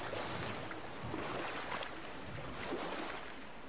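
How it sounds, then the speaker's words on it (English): A huge waterfall in the God of War video game roars as a continuous broadband wash of rushing water, steady and fairly faint, with no voices over it. "I've never seen a waterfall so big."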